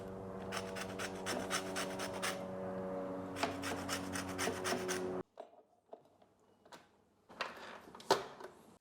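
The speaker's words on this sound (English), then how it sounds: "it's very important to zest the lemon directly into the bowl" A lemon is rubbed against a zester or rasp grater over a bowl, giving bursts of close, scratchy rasping strokes, then quieter intermittent scraping and a few clicks.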